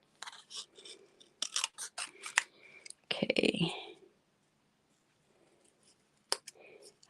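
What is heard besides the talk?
scissors fussy cutting paper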